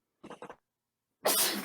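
A person sneezes close to the microphone, with two short breathy intakes followed by a loud, abrupt burst after a brief pause, during a live gaming podcast.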